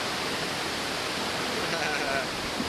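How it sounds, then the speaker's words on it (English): Shohola waterfall rushes in a loud, dense, constant roar that fills the whole moment, with only faint traces of other sound beneath it. "No more anxiety, just relaxation and this nice waterfall."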